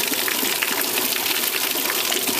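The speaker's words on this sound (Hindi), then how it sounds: "जल्दी से पानी भरता हूँ और अपने जानवर को" Water pours steadily as a container is filled to give an animal a drink in hot weather, a loud, continuous gushing rush that stays even throughout with no voices.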